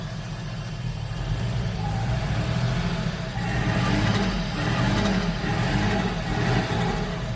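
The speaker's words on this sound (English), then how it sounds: "you guys can kind of hear this thing is missing." A Toyota Aristo engine runs with a misfire, its steady low rumble carrying an uneven, stumbling pulse throughout with no talk over it.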